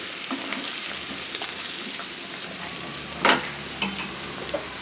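Potato and fenugreek leaves fry over a low flame in a pan, giving a steady soft sizzle with a few brief stirring scrapes, close up and with no speech.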